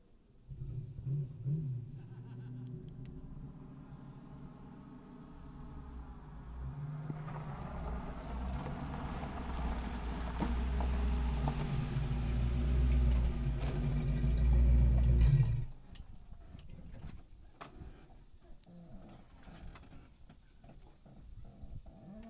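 A car with Aces EFI fuel injection cruising down the road, a steady low engine drone and road rumble building to a louder sustained hum, then dropping off abruptly to quieter irregular noises.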